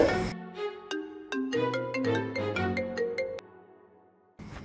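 A mobile phone ringtone plays a bright, repeating melodic tune of distinct tones for about three and a half seconds, loud and close, then briefly stops before a short burst of noise.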